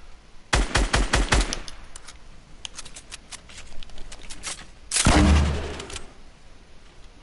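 Gunfire in Fortnite: a rapid automatic burst of about a dozen sharp shots, then scattered single shots, and a heavier blast with a low boom near the end, all loud and close.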